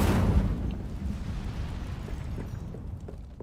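Incendio fire spell cast in the Hogwarts Legacy video game, a loud burst and whoosh of flame at the start that decays into a rumbling roar over several seconds.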